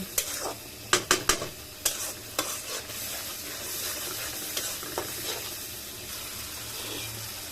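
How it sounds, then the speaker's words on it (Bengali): Ground coriander, cumin and other spices stir-fry together in a pan. Several sharp spatula scrapes come early, then a softer, continuous sizzle carries on with occasional light stirring strokes. "সবগুলো একসাথে মশলা মিশিয়ে ভালো করে কষিয়ে নেব"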